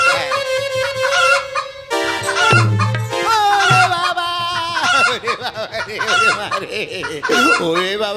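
A rooster crows loudly and clucks repeatedly up close, with a person exclaiming briefly among the calls.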